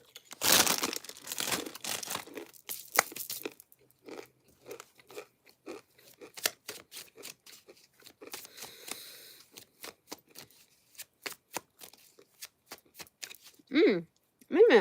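Tarot cards shuffled by hand with a burst of riffling and crinkling at the start, followed by scattered soft card slaps and flicks, while a person talks intermittently throughout.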